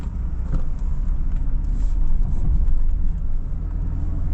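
A manual Toyota LandCruiser 76 Series held in low-range first gear while descending a hill, its engine a steady, loud, low drone throughout with no talk.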